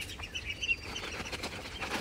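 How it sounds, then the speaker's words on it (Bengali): A large Pekin duck held after being caught on a small farm flaps its wings in a brief, soft flurry, with faint chirps mixed in. "শখের খামারের সবচেয়ে বড় হাঁসটা ধরলাম আমরা আজকে।"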